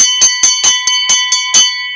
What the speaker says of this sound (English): We need to get the bell, don't we? We need a bell.